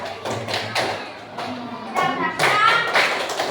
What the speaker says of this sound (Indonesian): coba kita tepuk semangat lagi